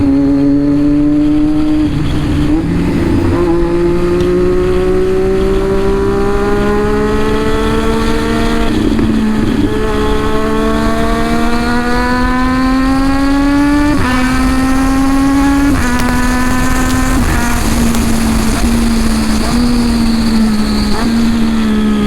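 A Triumph Daytona 675R with an aftermarket exhaust, loud and close, climbing through repeated revving pulls. Rising engine pitch breaks at each upshift, the shifts coming one after another over about twenty seconds with no talk.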